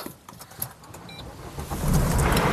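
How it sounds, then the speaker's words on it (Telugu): A 2017 Maruti Suzuki Ciaz ZETA started with a push button: a few small clicks inside the car, then the engine catches and settles into a steady, fairly loud idle close by, with no talking. "సింగిల్ సెల్ఫ్లో కార్ స్టార్ట్ అవుతుంది"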